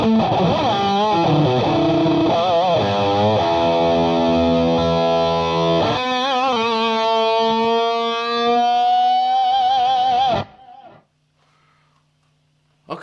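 An electric guitar played through a Strymon Sunset overdrive pedal with light drive and the tone rolled fully off, sustaining warm chords with some wavering vibrato for about ten seconds before cutting to near silence.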